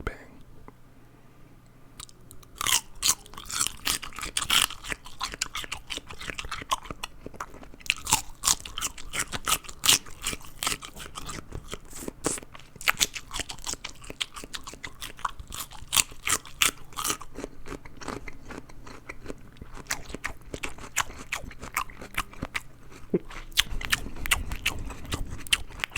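Close-miked crunchy food being bitten and chewed in an ASMR mukbang session, with dense, irregular crunches and crackles running steadily throughout, alongside soft whispering and a low rumble near the end.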